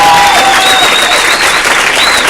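Thunderous, close applause fills a comedy club audience, continuous and loud, with whistles ringing over the clapping.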